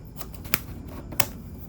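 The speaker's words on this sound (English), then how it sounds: "Let's remove first the plastic here." Plastic wrapping is peeled off a Huafit A1000 smartwatch at close range, with soft crinkling and two sharp crackling snaps amid quiet rustling.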